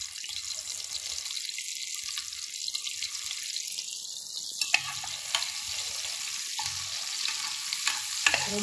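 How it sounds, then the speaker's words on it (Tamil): Onions and tomatoes sizzle and fry continuously in a pan, with soft scraping and stirring clatter and a few sharper clinks near the end, no talking. "வெங்காயத்தையுமே தக்காளியுமே ரொம்ப வதக்கக்கூடாது."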